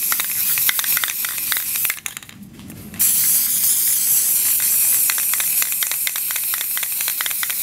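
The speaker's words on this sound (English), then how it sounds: "Might want to spray paint them whatever your color is" An aerosol spray paint can hisses in long, steady bursts while paint goes onto wooden plank football helmet wall art, broken by a single one-second pause with a faint rattle before spraying resumes.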